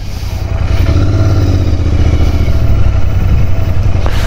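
A 2021 Royal Enfield Interceptor 650 Mark 2 motorcycle engine rumbles loudly up close with a steady, throbbing low idle and slight mechanical clatter on a high mountain road.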